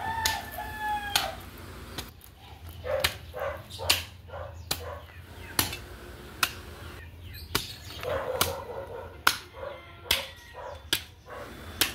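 Chickens cluck and a rooster crows amid sharp, repeated dog barks, the sounds scattered and overlapping across the yard.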